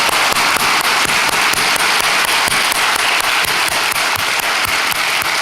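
Dense, steady applause from a church congregation at a Saturday dawn prayer meeting, honoring uniformed students, loud and continuous with crackling, rapid claps throughout.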